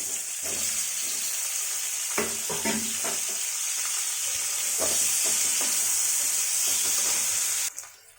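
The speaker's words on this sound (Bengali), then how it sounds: "ওই তেলের মধ্যে আমি পনিরগুলো ভেজে নিচ্ছি" Pieces of paneer sizzle steadily in hot oil with a bright hiss, broken by clinks and scrapes of a spatula, until the frying cuts off abruptly.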